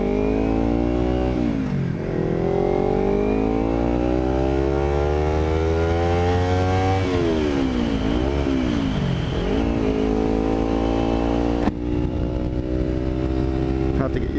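A 2013 Kawasaki Ninja 300 engine hums steadily while riding along the coast, its pitch rising and falling through gear changes and throttle shifts under constant wind rush.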